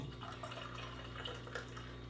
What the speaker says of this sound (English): Gotta pour hard so you can try to get ahead here.